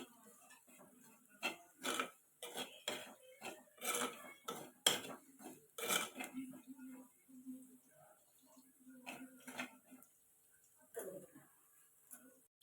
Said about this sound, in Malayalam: ഇതൊരു 10 സെക്കൻഡ് ഇളക്കി യോജിപ്പിക്കണം.